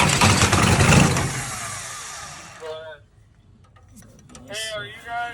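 Diesel engine of a Tucker Sno-Cat cranking and catching, a loud rough roar that fades away, followed by people talking nearby.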